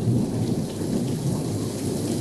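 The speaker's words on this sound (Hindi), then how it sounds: "बारिश तो मतलब रुक ही नहीं रही है." Heavy rain pours down steadily with low rumbling thunder rolling beneath it, a dense, continuous wash of sound with no voices, during a downpour in Odisha that refuses to let up.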